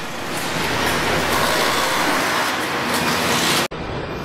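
Industrial noise inside a Hyundai car assembly plant where robots weld car bodies: a steady, loud mechanical roar and hum with faint intermittent hisses, cutting out abruptly near the end.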